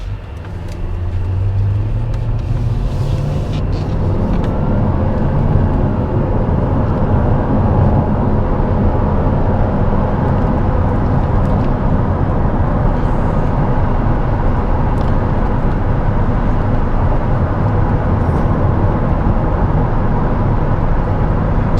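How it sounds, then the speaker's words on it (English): A Jaguar F-Type R with a 5.0 V8 pulls away and runs through the gears in standard mode, a steady, loud low engine drone with rising tone heard from inside the car, alone without talk. "as the car moves through the gears in a standard driving mode"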